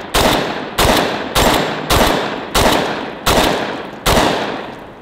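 Six loud, evenly spaced blasts from a pump-action shotgun fired at targets outdoors, each sharp report trailing into a long decaying echo, roughly every three quarters of a second, no talking.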